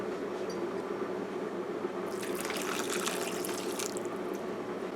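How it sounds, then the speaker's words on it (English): Water poured from a cup into a pot of boiling peas and rice, a steady splashing pour that swells partway through over the continuous low simmer of the cooking pot. "Now we're gonna add 1 cup of water to this."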